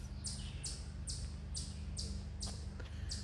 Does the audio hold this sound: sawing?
no